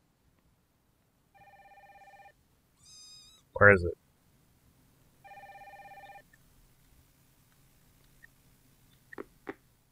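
A phone in the video game Stardrop rings in two electronic bursts of tones a few seconds apart, fairly clear against a quiet background, with a short line of speech and a few soft clicks between and after.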